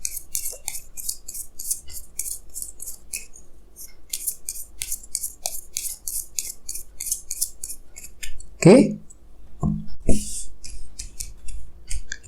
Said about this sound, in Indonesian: saya akan tarik lagi 2 kartu tambahan